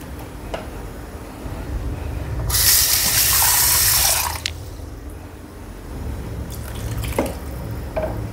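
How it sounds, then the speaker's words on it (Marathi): Water is poured into a simmering mutton gravy in a pot, a bright splashing gush lasting about two seconds, set among quieter kitchen drips and clatter. "मी अजून थोडंसं पाणी घालते"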